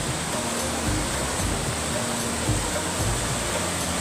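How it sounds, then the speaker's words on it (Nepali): A big river in flood rushes past as steady broadband water roar, loud and close, with no pauses. "नदी यत्रो धेरै ठुलो छ।"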